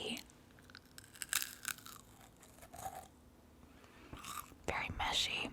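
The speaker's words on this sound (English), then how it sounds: "you just take a little bite into it, and it's nice and crunchy" Close, crisp crunching bites into a peanut candy bar followed by soft chewing, with whispery mouth sounds between; a couple of loud crunchy bursts stand out.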